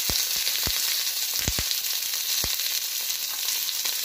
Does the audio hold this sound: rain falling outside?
no